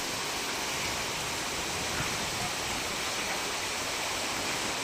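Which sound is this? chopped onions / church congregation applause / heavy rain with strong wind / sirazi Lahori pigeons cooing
heavy rain with strong wind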